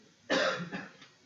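A single short cough, faint and close, bursts out once and trails off over about a second in an otherwise quiet room.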